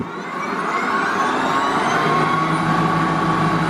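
A Wild Badger Power cordless snow blower spins up into a loud, steady electric whine with a broad rushing hiss, holding constant after a quick start.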